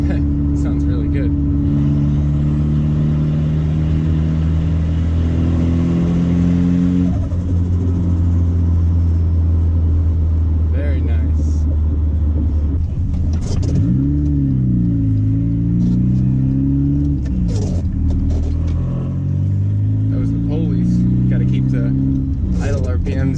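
A turbocharged car engine after injector tuning, idling with a steady rumble and then revved in a few swells that rise and fall, loud and close, with a person speaking over it at times.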